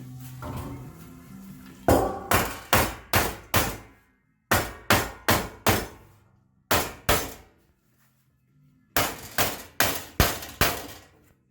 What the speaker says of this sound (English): I'm going to help it with another 2x4 and a hammer